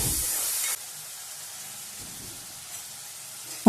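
Garlic, shallots and a small tomato sauté in a pan with a little salt, giving a soft steady hiss and sizzle that runs alone throughout, louder at the very start and end.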